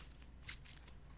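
A brief, soft papery riffle of tarot cards being shuffled, quiet and close, over a low background hum.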